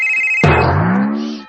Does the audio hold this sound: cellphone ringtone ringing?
yes